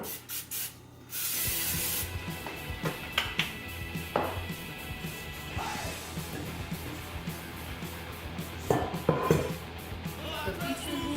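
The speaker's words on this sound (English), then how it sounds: "I just use vegetable oil cooking spray" Vegetable oil cooking spray hisses from an aerosol can into a 9-inch round container in a kitchen, a short burst followed by longer sputtering sprays, close and loud, with clatter and a voice nearby.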